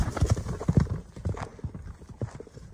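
Horse hooves clip-clop in a quick, close rhythm of distinct thuds on hard ground, a working horse of the kind ridden in kok-boru, with no talk.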